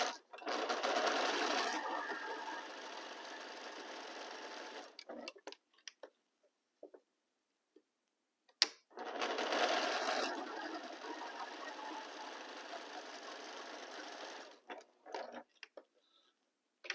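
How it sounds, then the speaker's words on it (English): A sewing machine stitches fabric along diagonal lines in two long, steady runs, each several seconds, separated by quiet gaps with a few faint clicks and handling noises. "Organize my fabrics very well and start sewing."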